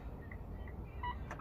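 A car's turn-signal indicator on a Nissan Livina, first selectable tone: faint, short electronic beeps, quiet and isolated against a low background hum.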